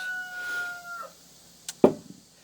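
A single rooster crows briefly, a short sharp call partly off in the distance, after a quiet stretch with faint background hum.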